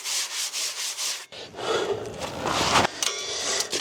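Quick hand sanding in a shed workshop, a steady rasping rub that starts with soft rhythmic strokes and then becomes a louder, continuous scratchy scrubbing, close by with no talk.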